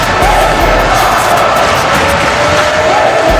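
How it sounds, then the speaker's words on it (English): Loud, continuous crowd roar and cheering from a WWE 2K24 wrestling video game match, a dense wash of noise from start to finish with no breaks. "Listen to this crowd giving appreciation to both of those men in this matchup."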